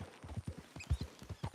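A horse's hooves clip-clop at a walk in the video game Red Dead Redemption 2, a soft, even rhythm of light thuds heard alone at low volume.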